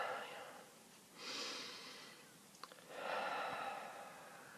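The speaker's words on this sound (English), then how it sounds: "And 1 more deep breath." A single deep breath, a long soft inhale followed after a pause by a fuller, longer exhale, close and quiet in a calm room, with a small click between them.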